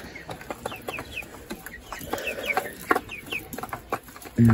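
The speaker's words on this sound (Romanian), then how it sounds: "pui de carne pentru consum, pentru carne, pui albi" White broiler chickens raised for meat cluck in a farm setting, with repeated short chirpy calls and clucks scattered across the clip at moderate distance, plus a brief louder knock near the end.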